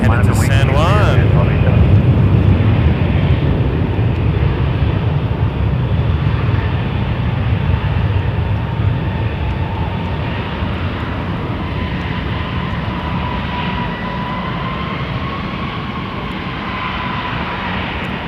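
An Air Canada Rouge Airbus A319 jet taxiing at Toronto Pearson Airport, its engines a loud, steady close roar with a rising whine, as a voice talks over it.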